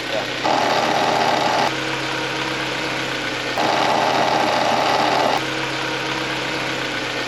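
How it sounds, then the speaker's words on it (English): A VW MK4 Golf engine idles with a steady hum and an added whine from a suspect alternator, with louder stretches coming and going at regular intervals. "I'm thinking it has something to do with the alternator, because this is the way it used to sound"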